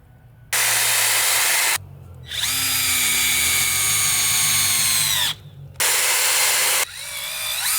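A power drill drives screws into a DIY three-tier plant stand in loud, close bursts: a short whir, a longer high-pitched run of several seconds, then another short burst, with brief pauses between.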